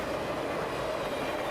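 Conrail's TVLA freight train rumbles steadily past north of Palmyra where Road 210 meets Division Street, a dense, continuous roar of rolling cars close by with no voices.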